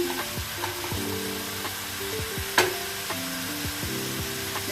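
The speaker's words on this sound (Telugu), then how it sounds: "ఆనియన్స్ ఫ్రై అయిందండి" Onions fry in a pan for prawn curry, a steady loud sizzle with stirring scrapes and knocks of a spoon against the pan, and one sharp clack midway; no voices.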